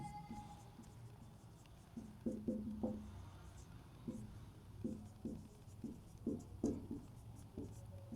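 Chalk or marker writing on a board in an economics statistics lecture, with short scratchy strokes arriving in irregular bursts against a quiet room.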